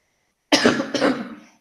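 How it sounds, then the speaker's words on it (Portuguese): A single harsh cough from a lecturer who has a bad cough, in two quick bursts close to the microphone, alone against silence. "me desculpa, eu tô com uma tosse ruinzinha mesmo"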